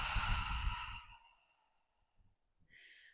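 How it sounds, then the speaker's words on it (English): A deep, audible breath during a standing yoga flow: a long, full exhale fading out, then a fresh inhale starting after a short pause, close and alone. "We're going to just take a deep inhale and a complete exhale."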